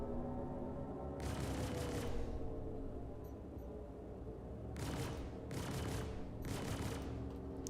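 Rapid bursts of ship gunfire in the Star Citizen space game, several loud volleys separated by a sustained engine hum and ambient drone.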